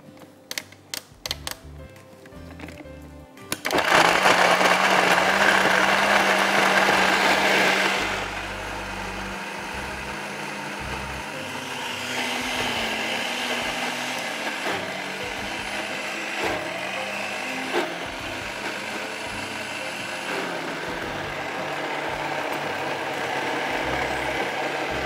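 Electric grinder blending small green cardamom with other curry ingredients for a Mughlai curry, opening with a few clattering bursts, then a loud continuous whirring drone that steadies and grinds on at a slightly lower level, with no talking.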